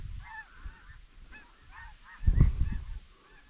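Snow geese honk in a flock overhead during a hunt, with scattered nasal calls at moderate distance and a louder low thump near the end.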